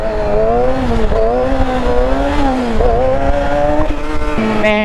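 Yamaha R6 sport motorcycle engine revving hard and steadily through a wheelie attempt, a loud, close, sustained high-pitched whine with small dips and rises in pitch and a brief drop near the end.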